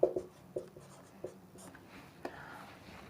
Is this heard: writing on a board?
yes